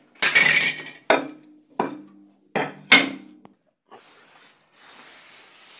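Garlic being crushed with kitchen utensils for salteño-style pallar beans, five sharp knocking clinks in an uneven rhythm, followed by quiet scraping.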